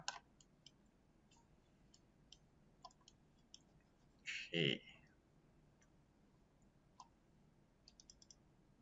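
A computer mouse clicks in CAD software while dimension annotations are placed: sparse, sharp, quiet clicks scattered through the clip, with a brief soft voice in the middle.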